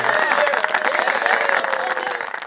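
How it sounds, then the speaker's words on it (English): A crowd cheers and applauds inside an echoing chamber in a dramatized scene, a dense, steady wash of voices and clapping that fills the space for the whole moment without pause. "Another cheer echoes in the chamber."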